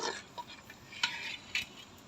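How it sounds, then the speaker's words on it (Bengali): Basmati rice being stirred in boiling water, a utensil clinking and scraping against a pot in a few separate strokes over a soft bubbling background, without speech. "আর এভাবে নাড়াচাড়া করে কিছুক্ষণ রান্না করতে হবে।"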